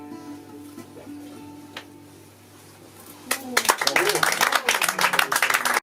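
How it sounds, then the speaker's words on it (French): Sudden burst of close, vigorous clapping from a small audience at a slam poetry evening in a café in Vence, erupting after a quiet stretch with faint speech and continuing loudly to the end. "Ça s'applaudit 2 fois plus."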